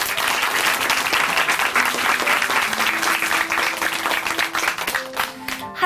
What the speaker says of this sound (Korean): 힘차게 박수로 함께 응원하겠습니다